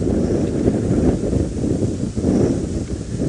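Strong, gusty wind buffets the microphone in rolling surges during a sunset safari drive, loud and continuous, with faint rustling of long grass underneath.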